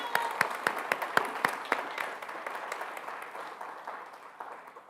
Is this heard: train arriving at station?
no